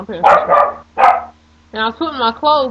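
A pet dog barks a few times nearby while a person talks over and around the barks.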